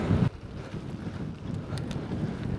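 Wind buffeting a microphone head-on while moving along a small path outdoors, a steady low rumbling roar with gusty swells, louder in a brief burst at the start.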